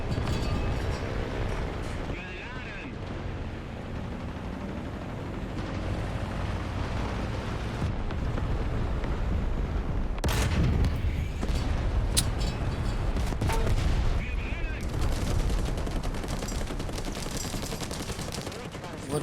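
Panzer IV F1 short 75mm cannon in War Thunder tank battle, with heavy booming shots and rumbling combat din throughout, loud sharp blasts punctuating a dense battlefield roar, faint voices underneath.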